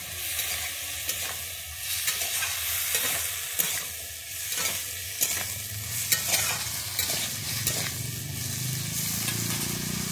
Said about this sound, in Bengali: আমি আলু বেগুনটা এবারে কিন্তু ভালো করে ভেজে নেব।